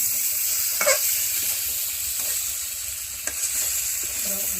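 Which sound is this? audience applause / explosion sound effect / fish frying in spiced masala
fish frying in spiced masala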